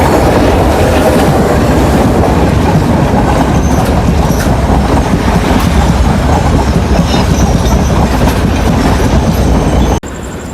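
A train in Sri Lanka rolls along on a journey toward Hikkaduwa, with a loud, continuous rumble of wheels and carriages, rhythmic clatter and occasional squeals heard close up throughout.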